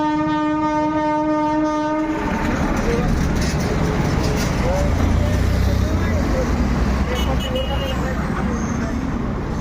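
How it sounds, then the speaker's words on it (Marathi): A train passes close by near Nashik railway station, opening with a loud sustained horn blast that gives way to a heavy continuous rumble and rhythmic clatter of wheels on rails. "ट्रेन पण दिसली, तुम्हाला सांगितलंच होतं."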